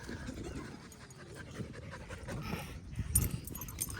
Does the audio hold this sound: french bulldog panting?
yes